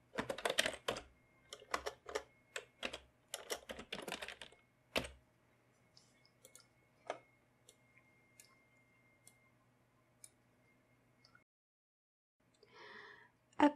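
Notes for an alto voice part are typed into music notation software on a computer keyboard, giving quiet bursts of rapid key clicks in an irregular rhythm with pauses, then a short final flurry.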